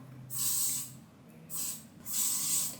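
Hair spray misted lightly onto hair in three close hissing bursts, the first and last longer, with short quiet pauses between them and no talking.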